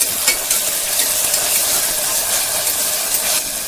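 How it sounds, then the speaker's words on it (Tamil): Onions sautéing with ginger garlic paste in a pan, a loud, dense, continuous sizzle and hiss heard up close with faint stirring movement underneath, no voices. "இஞ்சி பூண்டு பேஸ்ட் அதையும் போட்டு நல்லா பச்சை வாசனை போகிற வரைக்கும் கொஞ்சம் வதக்கணும்"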